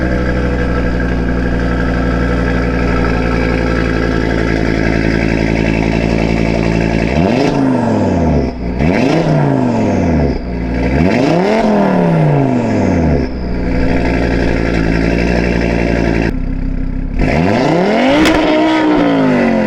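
An Audi RS3 with an aftermarket downpipe and midpipe on a stock muffler idles loudly and steadily, then revs hard several times in quick succession, each rise and fall sharp and close to the microphone, with no talking.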